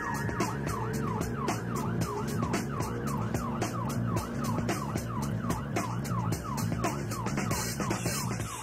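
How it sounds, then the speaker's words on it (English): An ambulance races to a 999 emergency call on a busy high street, its siren wailing in a fast, repeating up-and-down yelp throughout, loud and near over traffic rumble, with no talking. "crew Elisa Musselwhite and Stacey Smith are heading to an emergency after a 999 call from a busy high street."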